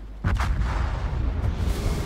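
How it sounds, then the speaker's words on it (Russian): A battleship blowing up in the World of Warships naval combat game: a sudden deep, heavy blast that rolls into a sustained low rumble lasting about two seconds, loud and close. "Взрыв моего линкора."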